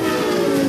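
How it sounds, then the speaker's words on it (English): A fast Amtrak passenger train rushes past close by, a dense, loud, steady roar of wheels and rail noise filling the whole moment with no voices. "Ooh, that was a fast train. That train went really fast."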